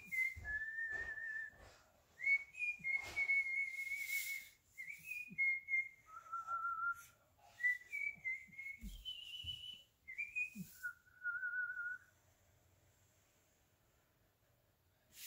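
A person whistles a song, a clear, fairly quiet melody of held and sliding notes with audible breaths between phrases, then a few seconds of near silence at the end.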